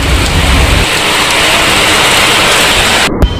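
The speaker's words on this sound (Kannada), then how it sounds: "ಮಳೆ ಅವಾಗ್ತಾನೆ ಸ್ಟಾರ್ಟ್ ಆಗಿರುತ್ತೆ ಅದು ದಪ್ಪ ಮಳೆ ಬರ್ತಾ ಇರುತ್ತೆ" Heavy rain pouring down steadily, a loud dense hiss of drops hitting surfaces close by, unbroken for the whole stretch with a faint thump near the end.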